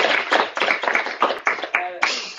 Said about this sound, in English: Big applause for you all.